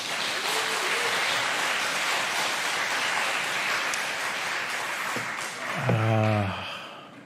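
A church congregation applauds in sustained, dense clapping that fills the room, with a voice rising briefly near the end as the applause fades.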